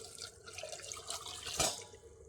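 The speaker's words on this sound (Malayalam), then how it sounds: "ഇനി നമുക്ക് അതിലേക്ക് ആവശ്യത്തിന് വേവാനുള്ള വെള്ളം ഒഴിച്ചു കൊടുക്കാം" Water poured into a pressure cooker over chopped tapioca: a soft, close, continuous liquid trickle that swells into a brief louder splash near the end. No one speaks.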